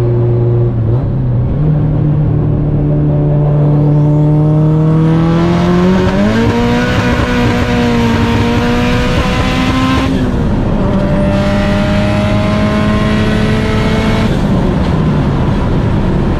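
Turbocharged Honda Integra accelerating hard, its engine note climbing steadily through the revs with brief dips at two gear changes, loud and close with no talking.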